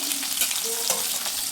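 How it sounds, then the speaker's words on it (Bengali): Pieces of rui fish frying in hot oil, a short, steady hissing sizzle at close range with faint stirring noises and no speech. "তো এদিকে দেখো মাছ ভাজা হচ্ছে"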